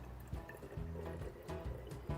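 Homemade hot sauce is poured slowly and carefully into a cup, giving quiet, uneven liquid glugs and trickles with small drips between them.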